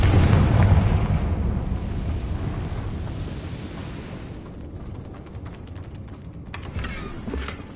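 A Confringo blasting spell in a Harry Potter video game sets off a deep, loud explosion that rumbles and slowly fades over several seconds, followed by scattered crackling debris.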